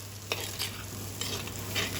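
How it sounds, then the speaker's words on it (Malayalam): A coconut-milk curry being stirred and mixed in a pan, with spoon strokes scraping through a steady background sizzle, close and clear, no talking. "അപ്പോൾ ഇതെല്ലാം കൂടെ ഒന്ന് ഇളക്കി യോജിപ്പിച്ചെടുക്കാം"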